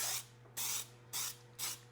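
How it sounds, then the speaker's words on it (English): Baker's baking spray, a flour-containing pan spray, hisses out of an aerosol can in four short bursts, each roughly a quarter second, steady and close with a faint hum between them. "I'm going to spray this."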